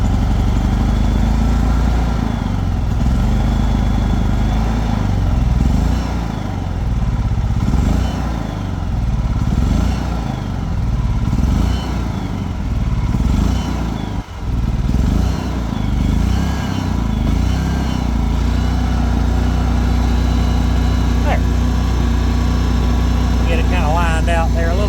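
A Champion 8500 watt inverter generator, brand new and first started with the choke on, runs with a loud, close, chugging engine drone that rises and dips slightly, while a person talks over it.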